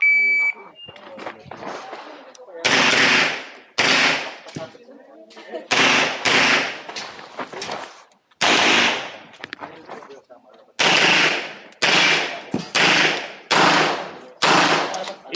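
Rapid gunfire volleys at an IPSC practical pistol shooting competition, PPSA Level 3 Chairman's Cup, loud sharp bursts of shots in clusters with short pauses between strings, some brief electronic timer beeps early.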